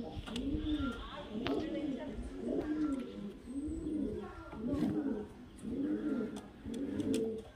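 High-flyer pigeons coo in a steady, rhythmic series of about eight rounded, throaty calls, fairly close and evenly spaced, with a faint voice in the background.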